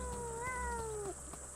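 A cat meows once in a video game, one long rising-then-falling cry lasting about a second, heard over steady low background game music.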